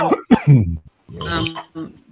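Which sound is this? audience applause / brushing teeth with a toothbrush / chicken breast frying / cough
cough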